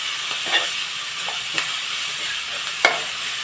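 Kozhuppa thoran cooks in a pan under a steady hiss, with a few soft scrapes and knocks from a spoon stirring it.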